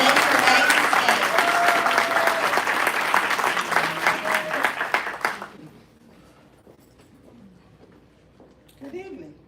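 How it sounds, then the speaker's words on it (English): Loud, dense crowd applause from an audience at a live Cobb County Sheriff's Office event, sustained for about five seconds before dropping away to quiet, with a voice briefly heard near the end. "Please give her a round of applause as she makes her way to the stage."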